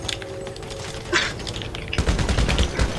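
Gunfire in GTA V: scattered shots crack at first, then a dense, loud burst of rapid automatic fire rattles close by.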